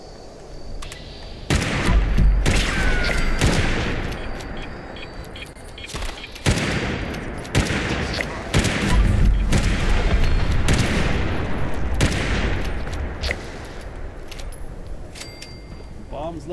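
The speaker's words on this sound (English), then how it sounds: "Bombs left and right." Bombs exploding in Fallout 76 amid heavy gunfire, a dense run of loud booms and cracking bursts one after another, with a person talking over parts of it.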